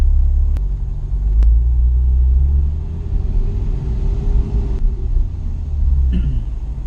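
Engine of a 2011 Porsche 911 GTS idling from inside the cabin, a steady low rumble with a slight swell partway through, alone without talk.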